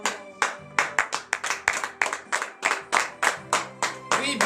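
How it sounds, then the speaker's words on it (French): Church congregation at a morning prayer service in Benin clapping in a brisk, steady rhythm of loud close handclaps, with faint voices behind. "tu as donné de vives acclamations à notre Seigneur Jésus"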